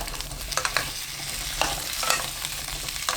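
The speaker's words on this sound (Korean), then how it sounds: "센 불로 2분 볶다가 중불로 줄여서 2분 더 볶으시면 돼요" Potato, sweet potato and carrot are being stir-fried in four spoons of cooking oil over high heat: a constant close sizzle is broken by quick, repeated spatula scrapes and clicks against the pan.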